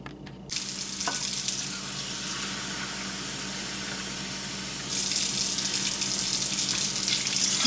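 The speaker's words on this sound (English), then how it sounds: "Now we're adding 3½ cups of warm water." Warm water runs from a tap into a bowl to proof yeast for sticky bun dough, a steady close rushing stream that grows louder and brighter partway through.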